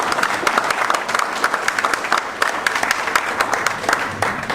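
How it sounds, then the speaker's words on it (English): An audience at a live speaking event applauds a performer being welcomed to the stage, a dense burst of clapping that holds steady for several seconds before tapering at the end. "let's give him a big round of applause"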